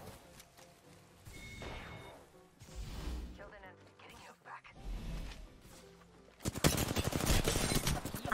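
Video game gunfire, bursts of rapid shots and impacts mixed with game effects and a voice talking, ending in a loud sustained volley.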